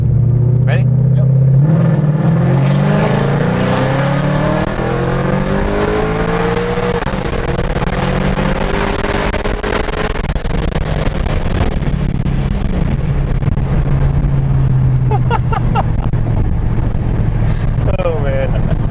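Supercharged Paxton 2014 Mustang GT with an automatic transmission pulling hard under acceleration, engine tone sweeping upward through gear shifts with loud wind noise, while people talk inside the car.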